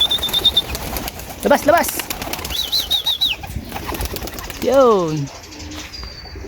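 Racing pigeons released from a loft during training in Guimba, Nueva Ecija, with wings flapping and soft coos and calls nearby, while someone talks briefly in between.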